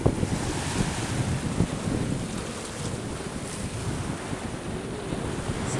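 Waves washing onto the beach at Plage d'Argent in Corsica, a steady broad roar of surf mixed with wind buffeting the microphone, continuous and fairly loud with no voices.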